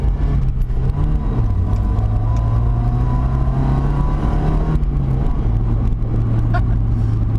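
A Mazda Miata is floored at full throttle, the engine droning loud from inside the cabin, pitch rising through the revs, dipping at a gear change and climbing again.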